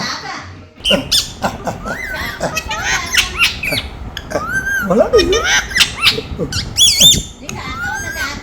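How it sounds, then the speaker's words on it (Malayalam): Harsh crow caws repeat in a busy, irregular series close by, mixed with sharper squeaky calls. "കാക്ക വന്നു കാക്ക വന്നു"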